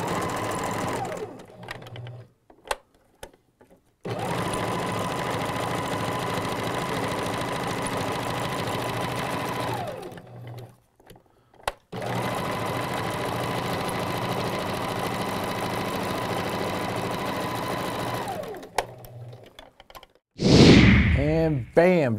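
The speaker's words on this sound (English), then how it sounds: "I've sewn all my designs together" A sewing machine stitches appliqué designs onto regalia fabric in two long steady runs of rapid mechanical whirring, with short pauses and handling noise between them and a brief burst of other sound at the end.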